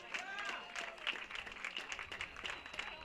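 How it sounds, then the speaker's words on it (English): Applause for two All-Star baseball players from a crowd at a Walnut Creek Crawdads game, a busy wash of many claps kept at a low, distant level throughout. "a big round of applause for those two"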